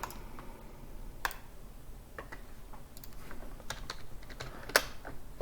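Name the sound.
typing on a computer keyboard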